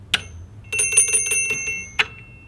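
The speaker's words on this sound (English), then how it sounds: "I've also got a timber bell on the front." A Timber bell mounted on the front of a Santa Cruz Chameleon mountain bike rings out: two sharp single strikes around a quick cluster of bright, metallic rings, close and clear with no talk.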